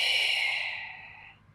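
A single long, steady exhale through the nose or mouth during a beginner yoga core and stretching flow, close and airy, tapering off gradually to quiet.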